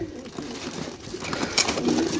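Low, soft pigeon cooing rumbles through the clip amid some shuffling noise, fairly close and continuous.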